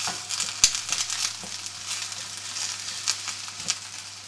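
Onions and garlic fry in a pan for a silverbeet, potato and lentil soup, giving a soft close sizzle with a few sharp clicks and scrapes, and no talking.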